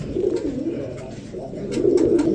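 Aggaran Tumbler pigeons coo nearby in soft, throaty, rolling murmurs that swell and fade in overlapping phrases, loud and close.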